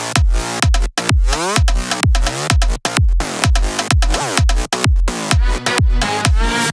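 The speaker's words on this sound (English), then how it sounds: "So the next thing that we have on top is the gritty bass," Gritty, distorted bass synth layer in an electronic dance drop, pumping loud in repeated rhythmic hits with brief gaps, bright harmonics spread across the range, no voice present.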